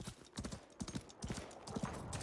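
Horse hooves clip-clopping in the video game Highguard, a steady galloping rhythm of close, repeated hoof strikes with faint background sound.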